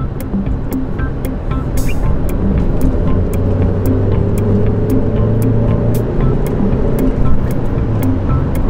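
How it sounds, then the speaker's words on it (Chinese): Haval H4 SUV accelerating hard, its engine a steady, loud drone with road and tyre rumble beneath it, continuous throughout and with no voices. "这个急加速动力方面我还是比较满意的"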